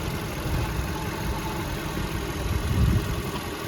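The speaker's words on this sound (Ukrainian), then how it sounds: "Двигун чуєте, як працює, все рівнесенько." A Volkswagen Touran 1.6 petrol engine idles steadily with an even, low mechanical hum and slight vibration, heard up close without speech.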